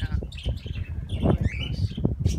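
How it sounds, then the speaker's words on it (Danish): Dozens of budgerigars in grass, a flock of about 55 to 60, chatter close by in dense, overlapping chirps and warbling twitters that run continuously and fairly loud. "Jeg tror, jeg har 55-60 undulater, som simpelthen nyder at være der."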